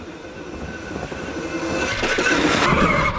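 A KTM Freeride E-XC electric dirt bike being ridden, a steady electric whir with rushing tyre and dirt noise that grows louder and rougher over a few seconds, with no voices.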